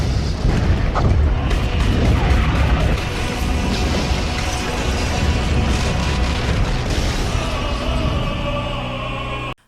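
Heavy booming blasts like cannon fire rumble and crash over a dense, chaotic background, loud and continuous.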